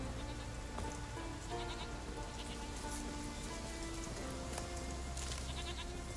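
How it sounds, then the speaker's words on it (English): Goats bleat in The Witcher 3 in the Skellige isles, several faint bleats scattered over steady rain and ambient game music. "These are just goats."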